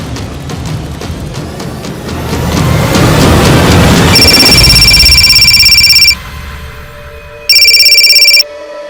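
A telephone rings loudly in a crime drama scene, with two bursts of bright electronic ringing. The first comes after a stretch of rumbling background noise and the second follows a short pause, with no talk over them.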